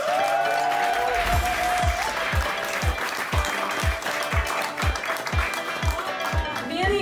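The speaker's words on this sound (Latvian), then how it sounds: "Milzīgiem aplausiem Annu" An audience at a stand-up comedy open mic applauds as comedian Anna is introduced. The sustained clapping and cheering run over a steady, thumping music beat throughout.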